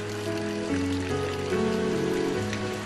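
Summer rain shower in the Jirisan mountains, a steady soft patter of rain filling a temple hall, even and continuous with a low tonal hum underneath and no voices.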